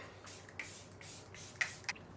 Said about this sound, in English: So one last spray.